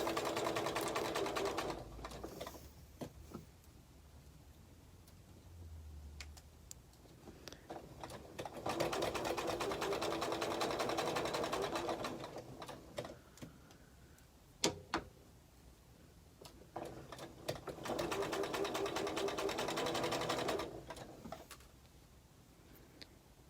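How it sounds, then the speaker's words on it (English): A sewing machine stitches a fabric table runner in three long runs of several seconds, separated by quieter gaps with small clicks and handling noises, close and fairly soft. "Trying to make sure I'm sewing these the right direction."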